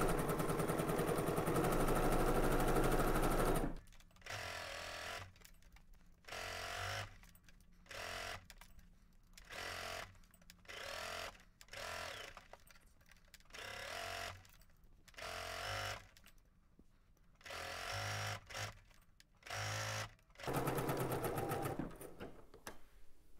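A sewing machine stitches fabric in a long continuous run, then in a series of short whirring bursts separated by brief pauses, close and fairly loud with no talking.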